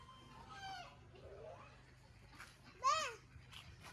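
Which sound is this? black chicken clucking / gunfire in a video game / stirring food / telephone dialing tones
black chicken clucking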